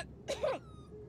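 A puppy gives a single short, high, wavering whimper in a quiet off-grid home, brief and fairly close, with faint background hiss and no talking.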